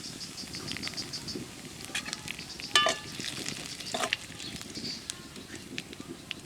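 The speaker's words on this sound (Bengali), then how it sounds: "পেঁয়াজ ভাজা তেলের মধ্যে দিয়ে দেবো জিরে" Cumin, bay leaf and spices hit hot oil with fried onions for a mutton curry. A close, steady sizzle is broken by a few sharp clicks and scrapes from stirring.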